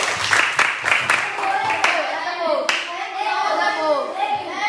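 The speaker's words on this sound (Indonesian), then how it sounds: "Berikan tepuk tangan" Classroom clapping, several sharp hand claps in a quick group at the start, then voices of children and a teacher talking over the room.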